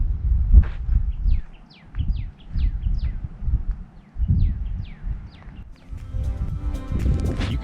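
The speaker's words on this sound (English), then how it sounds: "You can see and hear a lot of birds in the vegetation here, in the brush." Several small birds in desert brush in Saguaro National Park, Arizona, chirp and whistle in quick repeated calls, with steady low rumbling and rustling underneath.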